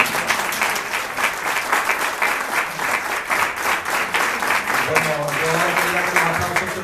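An audience applauds loudly and continuously at a poetry reading, dense clapping filling the whole stretch while a voice begins speaking under it toward the end.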